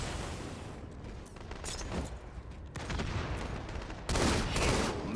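Gunfire rattles through a Halo MCC multiplayer slayer match with battle rifles, fairly faint bursts and clustered shots over a steady noisy background, growing louder near the end.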